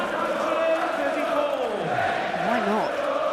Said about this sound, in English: the whole crowd singing his name